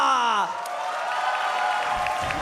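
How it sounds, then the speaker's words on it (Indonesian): Arena crowd cheering and clapping at a professional Mobile Legends esports match, a broad roar of applause and whoops rising as a sustained tone fades, with a caster's voice over it. "Empiel Arena, bisa tepuk tangannya."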